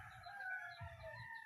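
A chicken gives a short run of clucking and crowing-like calls, fairly faint and close, lasting about a second and a half.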